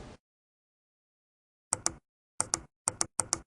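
Computer mouse clicking while tracing a selection with the polygonal lasso in Photoshop Elements: about eight crisp close clicks in quick pairs after a silent pause, with no talk.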